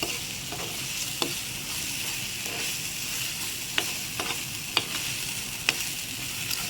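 A thick jackfruit and jaggery mixture is stirred in a pan while it cooks, making a steady, close sizzle. A spoon scrapes the pan in a few sharp clicks, with no voices.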